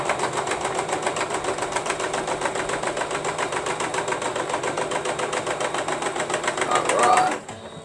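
A home sewing machine stitches steadily through a quilted star block bag, a close, fast, even mechanical whirr and needle tapping that holds for several seconds before a slight surge and a sudden stop.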